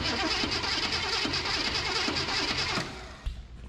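A 1965 Ford Ranchero engine cranking over on the starter, a steady fast churning whir for nearly three seconds, close and loud, then cutting off with a clunk and a short knock.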